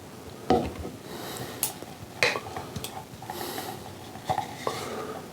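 Peanut butter scraped from a can with a utensil while making peanut butter cup moonshine: irregular close scrapes, knocks and clinks of metal against the tin, with soft rubbing between the sharper hits.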